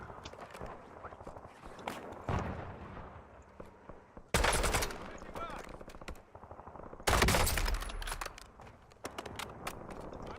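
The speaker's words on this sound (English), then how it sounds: "Pretty bad shooting" Gunfire in the Warzone video game: sparse, faint shots crackle in the background, broken by two loud, sharp bursts a few seconds apart, with occasional voices underneath.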